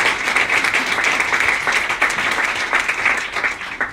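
Audience applause for the Daily News team at the event where Governor Cuomo signs the New York Child Victims Act: a dense, steady roar of many hands clapping at once, sustained and fairly loud throughout.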